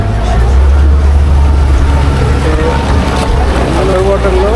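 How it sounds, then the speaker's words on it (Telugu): A boat out on the sea during a diving trip gives a steady, loud low rumble mixed with wind and water noise, with voices faintly audible underneath. "సో ఇది మన బోటు."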